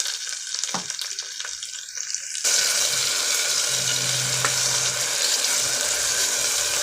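Ground green chili, coriander and tomato paste poured into a pan of sautéed onions, with faint clatter at first, then a sudden loud, steady sizzling hiss that continues to the end.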